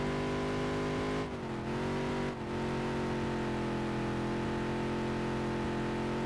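Race car engine in the NASCAR Dirt to Daytona video game, qualifying on a dirt short track: a steady, loud mid-pitched drone holding constant revs, with two brief dips as the throttle lifts, no talking.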